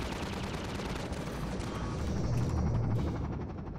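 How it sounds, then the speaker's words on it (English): Dense, continuous rapid gunfire in the game Half-Life 2, loud and sustained with a rumbling low backdrop, easing slightly near the end. "I still hear gunshots."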